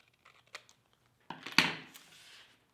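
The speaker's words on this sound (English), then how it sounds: "we are going to take our scissors and we will trim along" Scissors trim a paper photo for a scrapbook page, with a few quiet snips followed by a louder burst of cutting and rustling paper close by.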